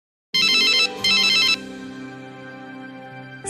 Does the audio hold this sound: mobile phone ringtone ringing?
yes